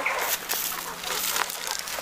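Chickens clucking on a farm during animal feeding, short scattered calls mixed with rustling and other farmyard noise at moderate distance.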